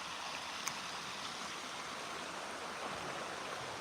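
A rising creek rushes steadily past, a continuous broad wash of flowing water heard close and even throughout, with no talking.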